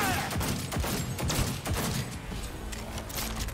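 Dense, continuous gunfire fills a Cyberpunk 2077 firefight with overlapping rapid shots and thuds at steady high loudness.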